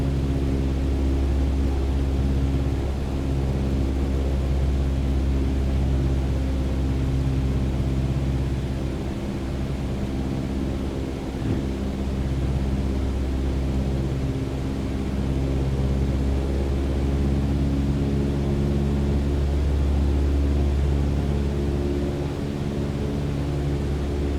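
Steady, droning cabin engine hum of an airplane in flight in Microsoft Flight Simulator 2020 on a low approach, a constant low rumble with broad airy noise holding evenly throughout.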